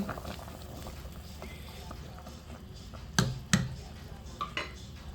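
Tamarind soup for pork sinigang being stirred in a cooking pot, with a few sharp clinks of a utensil against the pot standing out over a low, steady background hum.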